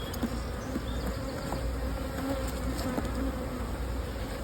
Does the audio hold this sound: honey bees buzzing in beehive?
yes